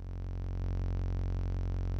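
A DIY system wavefolder module puts out a steady, buzzy synthesizer tone with a rich stack of harmonics, held at constant loudness for two seconds with no other sound.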